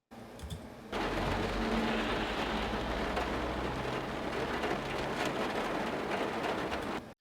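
Rain heard from inside a van, as a designed interior sound: after a short quieter start, a dull, steady, reverberant wash of rain drumming on the roof sets in and holds evenly, then cuts off abruptly.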